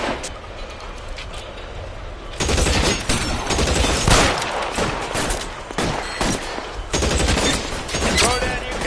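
A gunfight in the video game L.A. Noire opens after a quiet start into loud, irregular volleys of shots mixed with other combat noise, with voices speaking amid the firing.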